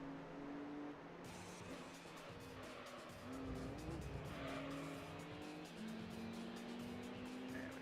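An Audi S4 race car drives during an endurance race, its engine a droning note whose pitch rises and falls as it shifts gears, joined by other car sounds and brief tyre noise, all fairly faint.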